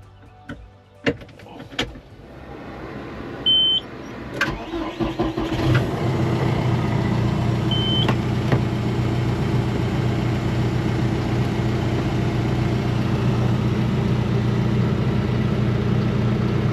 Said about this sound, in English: Let me get this tractor turned on.